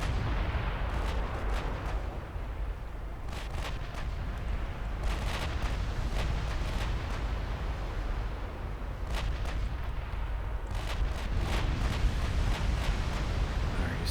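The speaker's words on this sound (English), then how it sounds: "Let the heavy guns deal with this." Heavy battleship main guns firing in Ultimate Admiral Dreadnoughts, a steady stream of booming salvos and sharp cracks over a dense rumbling naval battle, loud and continuous for the whole stretch without speech.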